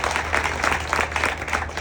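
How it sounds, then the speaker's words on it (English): Brief audience applause for panelists at a business panel discussion in Boise, a steady wash of clapping from a room of people, moderately loud, with a low hum beneath. "So a round of applause as we begin to talk to them."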